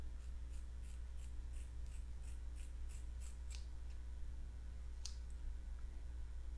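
Scissors snipping through a curly synthetic wig, a run of light rhythmic clicks followed by one sharper cut, faint over a steady low hum.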